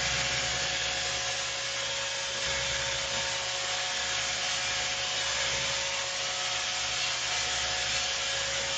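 A Roomba 630 robot vacuum on spot-cleaning mode spins in place on the floor, giving a steady, close whirring and brushing hum with a constant tone that holds throughout, with no voices.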